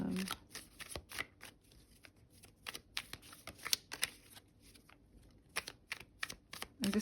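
A deck of tarot cards is shuffled close up, giving quick papery riffles and soft clicking bursts in irregular runs against a quiet room.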